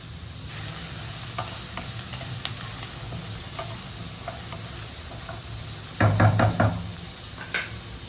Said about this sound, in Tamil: தக்காளியையும் நல்லா அது மாதிரி ஸ்மாஷ் பண்ணிடணும் நல்லா கொலைவாக நல்லா மசிஞ்சிடணும் இந்த தக்காளியை